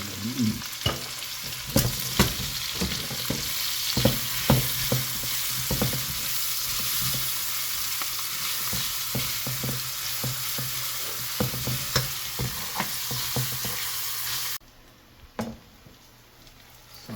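Garlic and onion fry in a hot pan with a loud, continuous sizzle broken by scraping stirs and clacks, then the sizzle drops away abruptly near the end, leaving brief quieter clatter.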